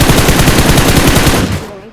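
Rapid machine gun fire in the mobile game PUBG Mobile, a loud, dense burst of evenly spaced shots lasting over a second and a half before cutting off.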